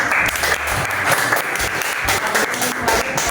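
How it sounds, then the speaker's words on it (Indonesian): Students in a classroom give a group of presenters a round of applause, loud dense clapping that carries steadily from start to finish without speech. "dari kelompok 3 kita beri tepuk tangan"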